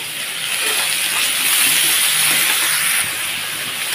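Small potatoes frying in a pan of hot oil with salt, a steady broad sizzling hiss that holds close and even throughout with no voices.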